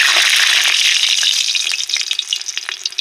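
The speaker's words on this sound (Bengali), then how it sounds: "আমার তেলটা গরম হয়ে গেছে, তেল দিয়ে একটা ধোয়া বেরোচ্ছে। আমি এই যে ধুয়ে রাখা আলুগুলো দিয়ে দিচ্ছি" Washed potatoes dropped into smoking hot oil, a loud, close, bright frying hiss that starts strong and breaks into popping, spattering crackles as it settles.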